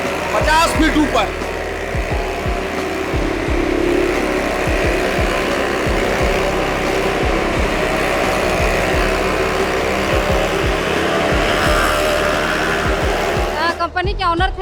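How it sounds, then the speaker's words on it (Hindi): Cars and motorbikes circle a wooden well-of-death wall at a Rath Mela fair in Ranchi, three cars and three bikes riding about 50 feet above the ground, giving a loud continuous engine roar with rhythmic revving under crowd noise. "3 कारें, 3 बाइक एक सर्किल पर जमीन से 50 फीट ऊपर।"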